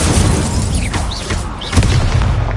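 Fiery Confringo or Incendio spell blasts in the video game Hogwarts Legacy, a loud roaring burst with whooshing magical swirls, then a second blast starting near the end over a constant rumble of combat.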